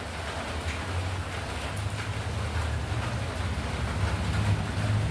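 Steady rain falls over a coffee-growing village, a dense, even hiss of drops that swells slightly toward the end, heard alone without voices.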